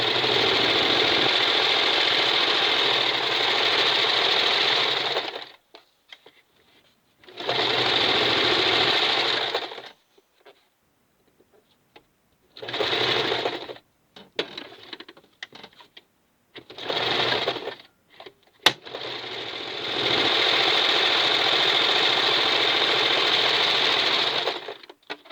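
A Kenmore model 1551200 straight stitch and zig zag sewing machine, built by Singer, runs in several bursts of rapid rhythmic stitching, each a few seconds long, separated by quiet pauses and faint clicks, loud and close.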